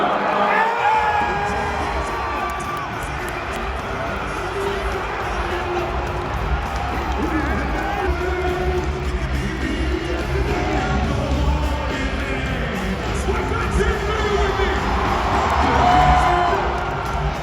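Large arena crowd roaring and cheering at Pat McAfee's Big Night Out in Pittsburgh, a dense, steady wall of voices and whoops that swells louder near the end.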